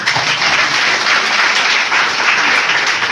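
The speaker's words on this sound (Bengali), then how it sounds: "তো আমি এই ন্যাপকিনটার জন্য একটা হাততালি চেয়ে নেব।" An audience at a product presentation for a sanitary napkin gives loud, steady applause, dense clapping filling the whole stretch.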